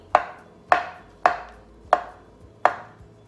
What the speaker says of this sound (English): So you just chop the banana very finely.